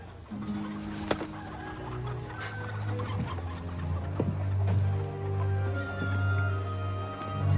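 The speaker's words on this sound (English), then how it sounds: "it's a chicken." Chickens cluck and murmur close by, with a few sharp squawks over a steady low hum of background noise.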